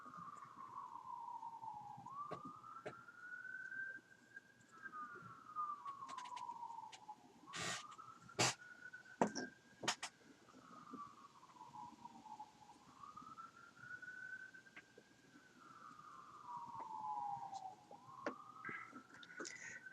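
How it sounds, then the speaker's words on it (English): An emergency services siren, police or ambulance, wails in the distance in slow, repeated rising and falling sweeps, faint and steady, with a few short clattering noises nearby. "that is another emergency services siren"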